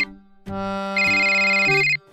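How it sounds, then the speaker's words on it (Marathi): A phone ringtone rings in a brief electronic melody of sustained tonal notes stepping between pitches, clear and close, with no talking over it. "सीएचा फोन आहे."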